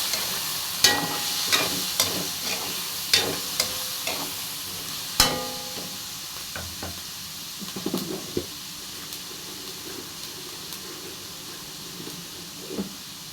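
Shrimp being stirred in a frying pan gives a repeated series of spoon scrapes and clinks over a soft, continuous sizzle, the knocks spaced about a second apart and fading toward the end.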